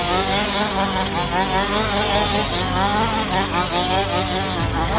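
HPI Baja 5B RC car's two-stroke engine buzzing steadily, a loud, close, high-pitched drone with shifting revs; a brief exclamation is heard.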